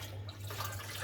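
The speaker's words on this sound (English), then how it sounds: "I'm just going to get rid of this water" Water being poured out of a washing-up bowl while calibrating an aquarium level keeper in a reef tank setup: a quiet, steady splashing pour over a constant low hum.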